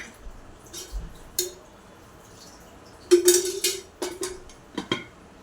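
A frying pan is handled and set down before oil goes in, with a few sharp metallic clinks and knocks scattered over several seconds against a quiet background.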